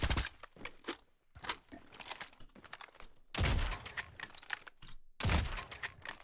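Gunfire in a Call of Duty Mobile battle royale match rings out in clustered bursts of sharp shots, separated by brief gaps, with some louder volleys toward the end.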